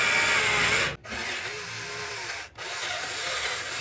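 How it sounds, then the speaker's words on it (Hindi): A power drill bores holes for nuts through a thin metal strip while building a 12-volt solar room heater, giving a steady, loud whine in two sustained runs broken by short pauses. "तो अब जो है इसमें हमने एक सर पे यहाँ पे सुराख कर देना है नट के लिए"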